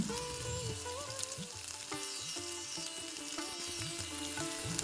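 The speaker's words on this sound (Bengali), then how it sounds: "দই আর টমেটো আর কাজুর পেস্টটা দিয়ে মশলাটাকে আমি আরো 3 থেকে 4 মিনিট কষিয়ে নিচ্ছি" Masala paste of yogurt, tomato and cashew sizzles steadily in a pan over low to medium flame for Bengali chital fish kalia, a continuous close frying hiss with faint stirring under background music.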